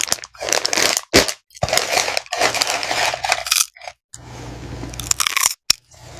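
Someone bites into potato chips and chews, a loud close run of sharp crisp crunches broken by short pauses, with no talking.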